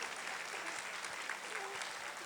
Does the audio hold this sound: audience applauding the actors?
yes